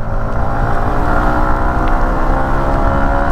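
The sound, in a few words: Yamaha MT-15 motorcycle engine revving above 6000 RPM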